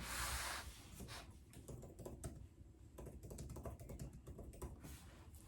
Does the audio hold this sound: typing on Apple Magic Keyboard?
yes